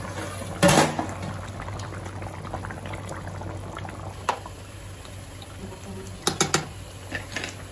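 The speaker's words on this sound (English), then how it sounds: "so keep the lid and cook for 15 minutes in medium flame." Village-style fish curry with tomato and roasted cumin simmers under a lid over a medium flame, giving a steady low bubbling with a sharp clatter near the start and a few light taps later.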